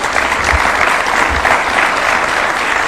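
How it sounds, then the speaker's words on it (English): Steady audience applause filling the room after a presidential speech at a plan launch, dense clapping throughout with no talk. "A round of applause for His Excellency one more time."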